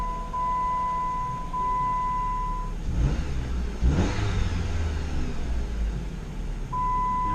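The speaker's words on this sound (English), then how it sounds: "now we're gonna start the vehicle, make sure it runs okay" A vehicle's engine running steadily with a couple of short revs midway, loud and close, during a mobile mechanic's diagnosis of trouble code P2004 with the check engine light on.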